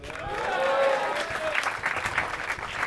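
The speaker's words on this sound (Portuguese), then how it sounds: "Obrigado pelas palmas" Applause from the audience at a live stand-up comedy show, a swell of clapping that builds and holds for a few seconds, with a voice faintly audible over the crowd.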